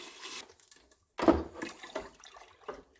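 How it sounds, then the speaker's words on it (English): Chicken broth is poured from 48-ounce boxes into a pot of Cajun chicken and sausage gumbo. It makes a quiet pause, then a burst of splashing followed by irregular glugging pulses. "We're going to put our chicken broth right in there."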